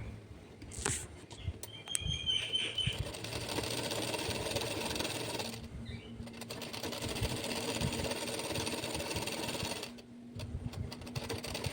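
Sewing machine stitching blouse cloth, a steady motorized whir running most of the time with two brief pauses, close and fairly loud, no talking.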